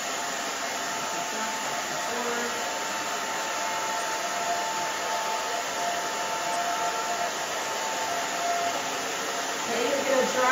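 A hair dryer blows steadily and loudly throughout while a short pixie cut with bangs is dried, a constant rushing airflow with no pauses and a slight swell near the end.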